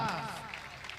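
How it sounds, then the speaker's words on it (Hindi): A crowd at a mushaira poetry gathering applauds, a brief dense wash of clapping heard at moderate distance, already underway and fading slightly. "तालियां तालियां होनी चाहिए आपकी जोरदार"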